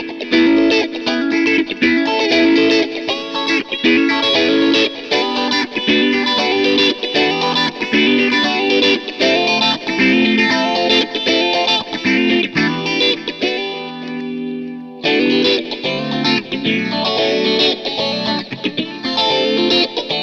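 Distorted electric guitar runs through a phaser effect on a Line 6 POD Go, strummed and picked in a busy, continuous riff with a sweeping, swirling tone. One chord rings out alone before the playing resumes.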